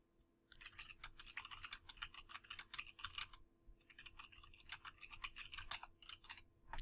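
A computer keyboard clatters with rapid, crisp typing in two bursts separated by a short pause, close and fairly quiet.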